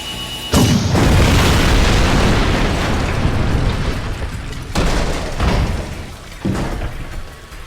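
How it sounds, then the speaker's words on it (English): A tank blows up in the video game Jak II, a loud close explosion with a deep rumbling boom that fades out, then further heavy blasts and crashes follow, with no talking. "Get behind me while I toast that tank."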